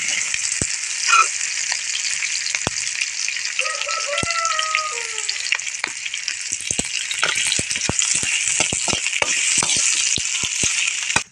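Curry leaves and garlic fry in hot oil for a drumstick poriyal, producing a loud, steady sizzle dotted with sharp crackles and pops, plus a brief squeak of a utensil midway.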